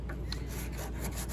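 A wooden sub veneer on the front of an 1867 Chickering 33B piano is leveled by hand, producing a steady close rasping and rubbing scrape over a constant low hum.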